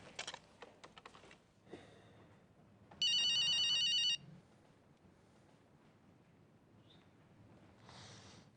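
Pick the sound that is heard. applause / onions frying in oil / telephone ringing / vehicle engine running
telephone ringing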